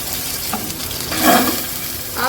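Fried chicken kebabs sizzling in oil on a hot tawa over high heat, a steady loud crackle broken by scraping stirs, close up with no talking.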